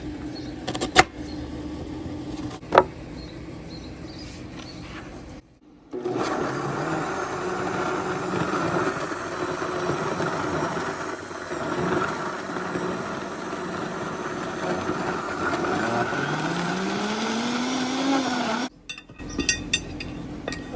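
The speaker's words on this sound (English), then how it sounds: "We're going to start off by blending some onion, ginger, and the garlic to go on the meat" A kitchen blender whirs steadily through a batch of onion, ginger and garlic, running as one loud, continuous motor drone for about twelve seconds. Short knocks and clatter come before it starts, and it winds down near the end.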